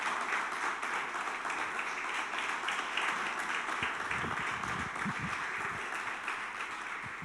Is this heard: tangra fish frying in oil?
no